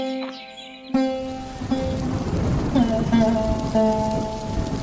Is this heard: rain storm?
yes